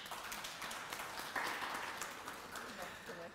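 An audience at a conference applauds with dense, continuous clapping that holds steady throughout. Voices can be heard through the clapping.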